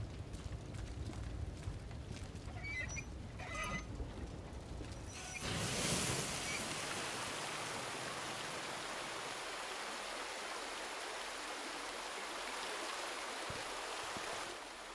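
Water in the Resident Evil 2 video game starts flowing after a switch is flipped, a clicking mechanism giving way at about five seconds to a steady, loud rushing stream that continues to the end.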